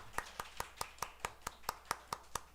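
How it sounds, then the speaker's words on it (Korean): Clapping at a Sunday morning church service sounds as sharp, evenly spaced claps, about a dozen in quick steady rhythm, fairly soft and slightly distant in a quiet room. "다시 한번 박수."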